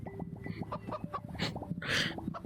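Chickens clucking in VRChat, a busy cluster of short clucks and chirps close up, ending in a louder squawk-like burst, with no talking.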